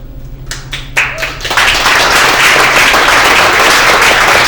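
An audience at a Texas Lieutenant Governor campaign event breaks into applause, starting with a few scattered claps that quickly swell into loud, steady clapping from the crowd that continues to the end.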